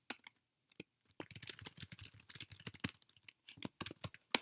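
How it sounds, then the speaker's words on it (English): Computer keyboard typing, close and fairly quiet, in irregular bursts of quick clicking keystrokes with brief pauses between, no talking. "So type the command again, Q. All right, so let's type something."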